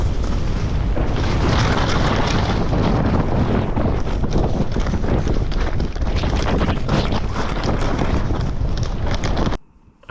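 Skis carve at speed over dust-on-crust snow, a thin layer of powder above hard ice, with a loud, steady rush of scraping snow and heavy wind buffeting the microphone that cuts off abruptly at the end.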